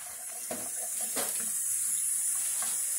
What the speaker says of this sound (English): it's just filling it up with water